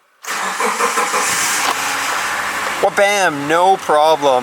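A Subaru car engine cranks and catches, then settles into a steady idle with a few quick revs. Someone speaks briefly over the running engine.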